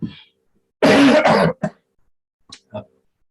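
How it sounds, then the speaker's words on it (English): A harsh, close cough rings out, followed by a couple of smaller throat-clearing coughs in otherwise quiet surroundings. "I did say I would cough occasionally"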